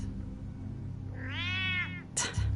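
A cat lets out a single drawn-out, wavering meow in Batman: The Telltale Series, rising then falling over about a second against a low hum, followed by a sharp brief scuffle.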